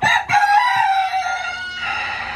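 A Polish breed rooster with feathered feet crows loudly and close by in one long drawn-out call, with a few short clucks at the start.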